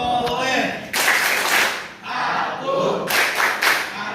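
A group performs the 'tepuk anak soleh' rhythmic clap chant, with bursts of clapping mixed with chanted voices close by in a classroom setting.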